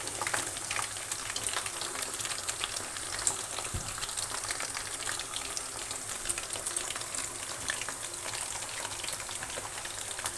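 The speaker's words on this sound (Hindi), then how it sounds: "पहले हम एक साइड से फ्राई इसको करेंगे, फिर हम इसको दूसरी साइड से फ्राई कर लेंगे।" Cornflour-coated fish pieces frying in hot oil, a steady dense crackling sizzle that holds evenly throughout, close and moderately quiet, with no voices.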